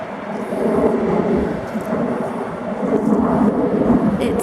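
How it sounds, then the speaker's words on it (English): Steady, loud low rumble of aircraft and busy road traffic near an airport, continuous throughout with no distinct passes standing out. "we're by the airport and by a busy road, so it's a little noisy"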